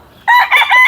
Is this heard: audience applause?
no